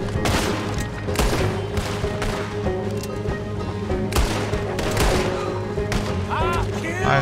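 Gunfire in the video game Red Dead Redemption II comes as a loud, rapid volley of sharp shots and booms in repeated bursts, with a voice speaking briefly among them.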